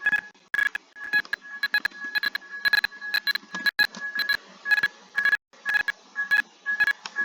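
Fire alarm going off in the Roblox video game, a steady series of short electronic beeping tones repeating in quick uneven bursts, moderately loud with no talking over it.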